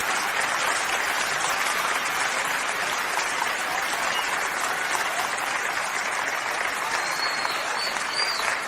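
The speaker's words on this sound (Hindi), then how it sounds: "एक बार जोरदार तालियां बजा के" An audience at a mushaira poetry recital in Dubai breaks into loud, sustained applause, a dense wash of many hands clapping steadily without letup.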